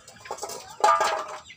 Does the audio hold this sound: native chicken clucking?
yes